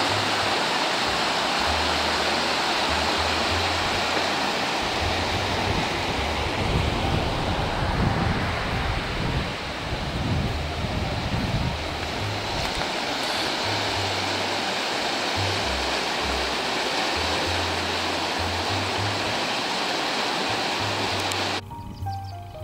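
The River Isla rushes along in a steady, broad wash of flowing water, loud and continuous throughout with no talking.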